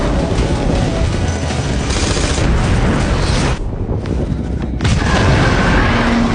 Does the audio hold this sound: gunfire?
yes